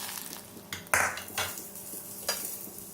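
Browned tempered spices with cumin are stirred into spiced potato masala in a metal pan, giving a few soft scrapes and clinks of the spoon against the vessel, with faint sizzling between them.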